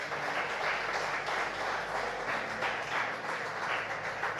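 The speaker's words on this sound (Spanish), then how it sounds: "Denle un aplauso fuerte al Señor" A congregation claps loudly for the Lord during a church sermon, a dense, continuous crowd applause rolling on steadily with no voices over it.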